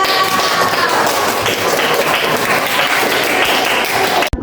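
A classroom group claps and applauds for group three, a dense, loud, steady burst of hand clapping that stops abruptly after about four seconds.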